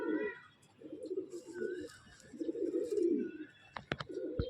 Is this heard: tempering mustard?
no